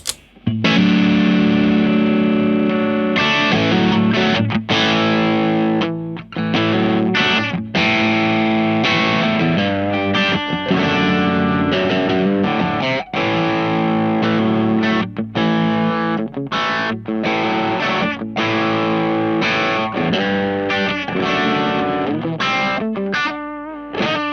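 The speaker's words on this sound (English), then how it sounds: "So this is the Jupiter Modern Distortion." Electric guitar played through an IK Multimedia X-Drive Jupiter Modern Distortion pedal, loud saturated chords and riffs with sustained notes and short rhythmic breaks, running continuously, with a touch of reverb from a Captor X.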